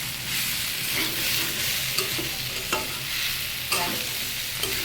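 Yardlong beans and potatoes sauté in oil in a pan, making a continuous close sizzle broken by several scraping stirs of a spatula.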